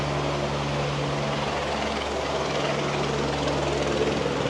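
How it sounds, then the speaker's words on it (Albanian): A helicopter passes overhead near the perimeter walls of a European prison, a steady droning engine and rotor hum that holds evenly at moderate loudness throughout. "erdhi prapë helikopteri."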